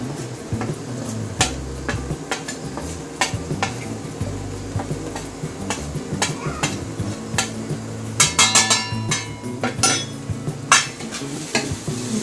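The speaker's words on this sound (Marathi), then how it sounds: "आता हे चांगले तेल सुटेपर्यंत परतून घ्यायचे." Misal pav spices sautéing in hot oil in a pan, with a steady close sizzle broken by frequent sharp spoon scrapes and clinks against the metal, busier toward the end.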